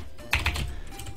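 A short burst of keystrokes on a computer keyboard while entering a terminal command, a few quick close clicks.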